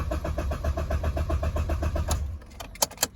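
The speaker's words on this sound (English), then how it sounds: "you can expect the engine to be cranked a little bit until everything is filled and everything goes" A 2010 Toyota Hilux diesel engine cranks with a fast, even starter rhythm after a fuel filter replacement, then stops, leaving a quiet gap with a few small clicks and knocks.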